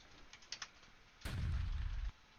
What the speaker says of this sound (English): Oh, I just heard another explosion go off, which tells me there's a rock sitting somewhere now.